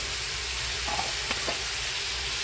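Spicy eel stir-fries with herbs and chili paste in a hot pan, making a dense, continuous sizzle with a couple of brief spatula scrapes close by.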